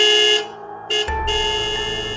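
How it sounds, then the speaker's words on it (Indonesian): A car horn sounds in a sustained, blaring honk that breaks off briefly and resumes, joined by a low engine rumble underneath, loud and near. "klakson kembali dibunyikan ayah tanpa penjelasan."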